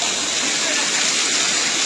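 Tokolangso waterfall in Karbi Anglong roars as a steady, loud broadband rush of falling water, continuous and close, with no voices over it.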